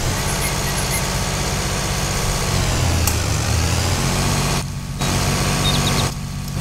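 Sonalika 60 DI tractor engine in Farming Simulator 22, hauling a big sugarcane trolley: a loud, close, steady diesel rumble with a shift in pitch midway and two brief dips where higher tones drop out, no voices.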